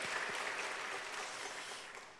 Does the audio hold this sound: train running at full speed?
no